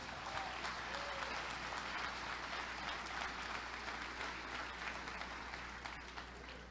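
A church congregation applauds, a dense, continuous clapping that fills the room and stays steady for several seconds without fading.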